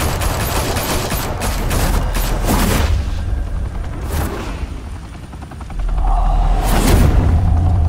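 Gunfire opening up in Batman: The Telltale Series: loud rattling bursts of automatic fire over a heavy helicopter-like roar, with booming hits and a pause before another burst.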